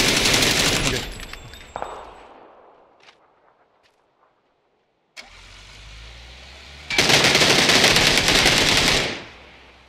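Machine-gun fire rattles loud and close in a PUBG squad match on Erangel, with an opening burst, a near-silent gap, then a vehicle engine and a second long sustained burst.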